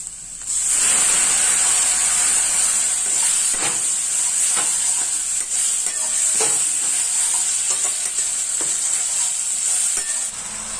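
Water poured into a pan of frying spices sets off a sudden, loud, sustained hiss and sizzle that holds steady, with faint stirring taps underneath and no voices.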